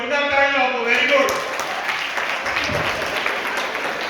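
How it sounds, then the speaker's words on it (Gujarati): An audience claps for parents at a Jain gathering, a sustained burst of applause that starts under a speaking voice and carries on alone, gradually thinning. "માતા પિતાનું જોરદાર તાળીઓ આપો."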